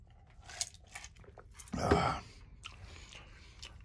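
Someone eating a bowl of homemade stew, with close, moist chewing and crunching bites in short bursts, one louder spell in the middle.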